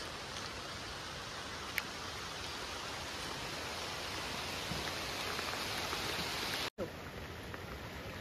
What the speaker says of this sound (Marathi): अजून एवढा पाणी भरून पण पाऊस काय थांबलेलो नाही आहे